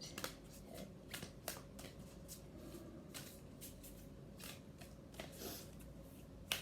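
Tarot cards being handled and spread out on a surface, a series of soft riffling swishes and crisp card slaps at irregular intervals, close and quiet, with no talking.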